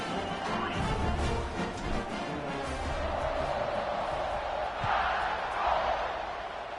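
Steady roar of a large football stadium crowd at a Crimson Tide game cheering for the kickoff, a dense continuous wash of voices that swells louder toward the end.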